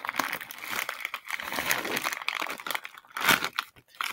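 Packaging crinkles and tears as a package is opened by hand, a steady close rustling with a louder crunch near the end and no talk.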